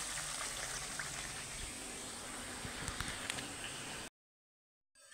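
Spiced rinse water from a washed bowl poured into a cooking pan for a village-style onion chicken dish, a steady close gushing and sizzling wash lasting about four seconds, then silence.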